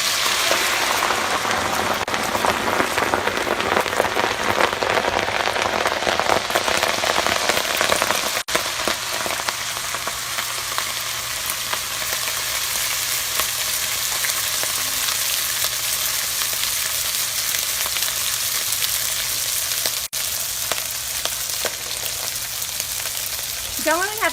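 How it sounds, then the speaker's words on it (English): Whole grains frying in a pan of hot oil give a steady, dense sizzle that fills the whole stretch, loud and close, with no talking over it. "And I'm going to put that into my hot oil, okay?"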